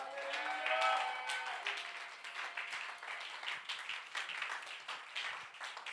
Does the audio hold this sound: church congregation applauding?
yes